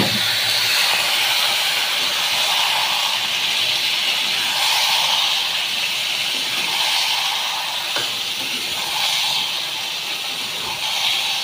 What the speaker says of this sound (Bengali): এবার ম্যারিনেট করে রাখা মটনটা দিয়ে দেবো।